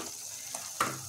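Chilli and turmeric powders frying in a kadai on low flame, a soft steady sizzle with a brief scrape of a spatula near the end.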